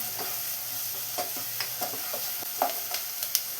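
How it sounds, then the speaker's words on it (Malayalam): Onions and crushed garlic sauté in a hot pan for a chickpea curry, giving a steady close sizzle broken by soft scraping stirs at an even pace. "ഇനി ഇതെല്ലാം കളറൊന്ന് മാറിയിട്ട് നല്ലൊരു സ്മെല്ല് വരുന്ന വരെ നമുക്ക് ഇതൊന്ന് വഴച്ചു കൊടുക്കണം"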